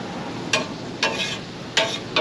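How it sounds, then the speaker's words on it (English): A steady frying sizzle of medium-sized shrimp in melting butter in a hot pan, with a few short bursts of louder crackle spaced through it, no voices. "Listen to the sizzle."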